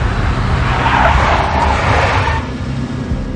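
A big black Mercedes in the Max Payne mobile game roars and skids, tires squealing under loud engine noise that eases slightly toward the end.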